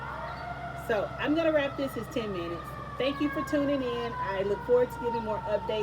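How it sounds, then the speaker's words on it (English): Street traffic with emergency vehicle sirens wailing faintly in the background while a person talks over them, the rising and falling siren tones continuing beneath the speech. "excuse the sirens and the cars"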